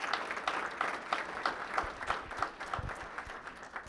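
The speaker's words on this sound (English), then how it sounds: "Let's give them all another big round of applause." An audience at a chamber of commerce legislative preview applauds the officials present, with steady, dense clapping from a sizable crowd that stays even and moderately loud throughout, without a break.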